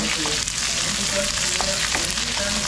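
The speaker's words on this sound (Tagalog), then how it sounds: "Igisa ko muna ang sibuyas." Onion and garlic sauté in a pan with a loud, dense, continuous sizzle and a few light stirring scrapes close by.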